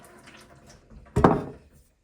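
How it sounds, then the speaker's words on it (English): Items are rinsed with water over a 5-gallon bucket at an off-grid home, giving a short, close splash and pour that swells for about half a second after some faint trickling, then falls quiet. "Start by giving these a little rinse."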